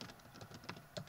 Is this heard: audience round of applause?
no